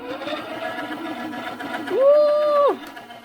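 Electric hub motor on a Schwinn Stingray OCC Edition conversion bike whines up on throttle, a rising tonal hum that holds steady for under a second before cutting off, loud and close after quiet shop noise.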